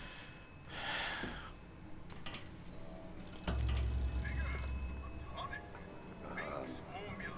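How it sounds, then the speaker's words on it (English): In Bioshock Infinite, a game telephone rings in bright, shrill bursts, with a low rumble and scattered voice-like sounds around it. "I don't like answering phones."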